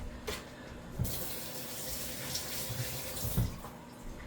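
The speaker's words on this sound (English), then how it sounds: "Let me just wash my hands really quick." A kitchen tap runs steadily as hands are washed under it, a close, continuous gush of water with small splashes and a few clunks.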